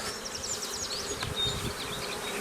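Honeybees buzz steadily at an open hive during requeening, a dense, continuous hum close by with no voices.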